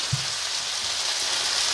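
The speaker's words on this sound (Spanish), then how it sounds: "Y aquí ya se están friendo la cebolla, la papa, el tocino." Onion, potato and bacon frying in a pan for Mexican-style carne en su jugo, giving a steady, close crackling sizzle with fine spattering throughout and no talk.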